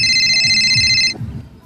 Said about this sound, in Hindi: इधर आ, मेरा फोन उठा।